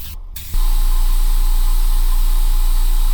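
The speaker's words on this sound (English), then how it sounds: "Now I'm going to use my airbrush paints." An airbrush sprays makeup paint for a Halloween face transformation: a steady, loud hiss of compressed air starts abruptly after a brief quiet moment and runs on continuously.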